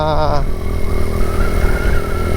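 A Honda TMX 125 motorcycle engine runs with a loud, steady low drone that stays close throughout, and a short tonal burst is heard at the start.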